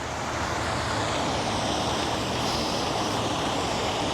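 A small waterfall on the Western Canal, carrying Salt River water, gives a steady, broad rushing roar of falling water that stays constant throughout without any voices.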